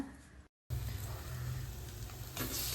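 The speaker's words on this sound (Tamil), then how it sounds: "ஆனால் நல்லா கிளறி விடுங்க, அடி பிடிக்காமல் பார்த்துக்கோங்க." Masala and coriander sizzle steadily in a pan while being stirred for a chicken pepper fry, a close, even crackle broken by a brief silent gap.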